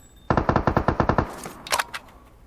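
Gunfire in the mobile battle-royale game PUBG Mobile: a rapid burst of about nine loud automatic shots, followed by a few fainter scattered game sounds.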